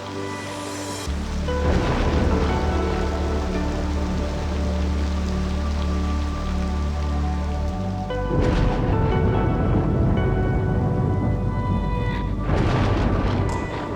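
Steady rain patters throughout in Cities: Skylines II, with low rumbling booms swelling in and out beneath it like distant thunder.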